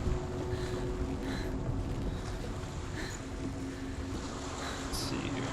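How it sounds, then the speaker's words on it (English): Wind and lapping waves around a boat out on the water in Hellblade: Senua's Sacrifice, a steady broad ambient wash with a low hum and faint intermittent higher tones, no talk. "Boat out there, that's sick."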